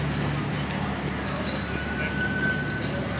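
A tram passes through a busy Gothenburg junction where tram and bus routes meet, giving a steady loud rumble of rails and wheels with faint squealing and city traffic behind.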